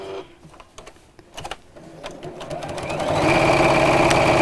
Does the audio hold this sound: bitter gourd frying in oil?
no